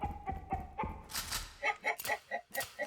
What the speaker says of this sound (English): Why am I hearing clucking?